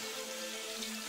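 Tap water runs steadily into a sink, rinsing a knife and a plastic chicken package, a soft continuous flow with no talking.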